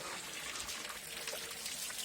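Water trickles faintly and continuously from a village fountain at the edge of a stream and forest, a soft, steady hiss of running water with no voices.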